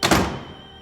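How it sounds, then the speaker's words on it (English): A door slams shut in someone's face with a single heavy thud that rings briefly and fades, heard alone and close. "the door was slammed in his face"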